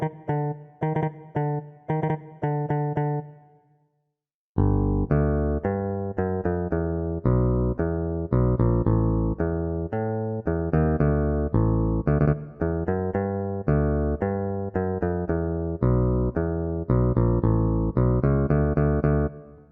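The bass line of a theme is played on a bass as a run of clear, plucked low notes, a short phrase, a brief pause, then a longer steady rhythmic passage.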